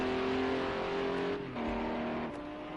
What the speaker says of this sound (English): Just having a look again at the Michael Shank Racing Acura that Jay was driving